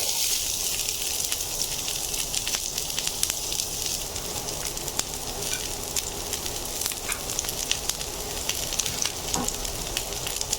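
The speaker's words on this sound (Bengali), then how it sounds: "আমি প্রথমে পেঁয়াজ এবং কাঁচামরিচ সামান্য ব্রাউন করে ভেজে নেবো" Diced onion and green chilies frying in oil in a pan make a steady, close sizzle with dense crackling pops, continuous and moderately loud without talk.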